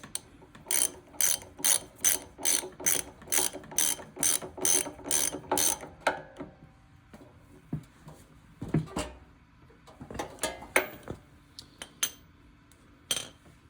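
A ratchet tightening a fitting on a Cat Pumps 3DX pump clicks in a fast, regular run of close, sharp strokes for several seconds, then gives way to scattered metallic handling clinks and knocks.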